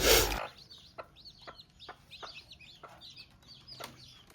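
A hen with eight newly hatched chicks clucks softly in short, repeated bursts, mixed with thin high peeping from the chicks, close by in a quiet space after a brief loud rustle.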